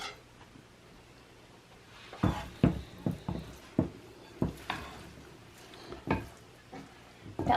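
Cooked rice is fluffed in a bowl for homemade chicken tacos, giving a string of soft, close scraping and tapping strokes, about a dozen irregular hits over quiet room background, with no talking.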